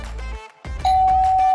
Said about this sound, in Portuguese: Alguém na campainha.